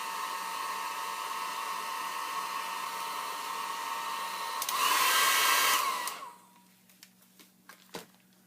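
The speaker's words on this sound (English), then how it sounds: "a hair dryer is a lot better for these type of roses instead of a heat tool" A hair dryer drying stamped paper for dimensional roses blows with a steady whirring drone, surges louder for a moment, then switches off, followed by a few faint clicks and taps.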